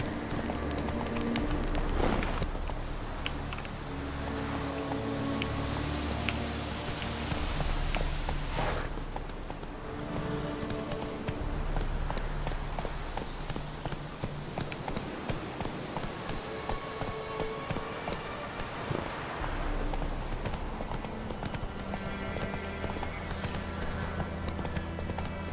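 Roach, the horse in The Witcher 3, gallops with steady rhythmic hoof clip-clops over game music and ambient sound, continuous throughout at moderate loudness.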